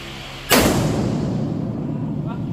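A shotgun fires once during firearms training, a sudden loud close blast that decays into a rumbling echo over a steady background murmur.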